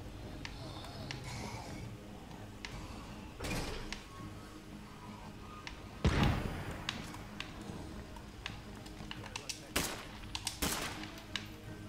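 Gunfire in a sheriff-missions shooter video game, a few sharp bursts spaced across a busy game soundscape, with the loudest crack near the middle and more shots toward the end.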